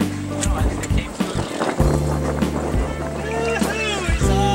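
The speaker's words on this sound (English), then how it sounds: "I'll start the engine so we can chase the fish" A fishing boat's engine starts and idles with a steady low rumble off Catalina Island during yellowtail fishing, with voices talking over it.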